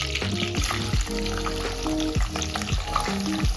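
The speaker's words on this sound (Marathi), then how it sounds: "याच्यामध्ये आता आपण कांदा टाकूया" Chopped onion hits hot oil already crackling with curry leaves for a spicy sprouted moth bean curry. A loud, steady frying sizzle runs throughout with stirring scrapes and clatter, and no talking.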